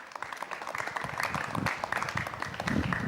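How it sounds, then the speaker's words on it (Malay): Audience applause for a competing group at a junior Quran recitation contest, a steady dense patter of many hands clapping throughout, moderately loud and close, with some voices faintly mixed in. "Beri tepukan untuk kumpulan A."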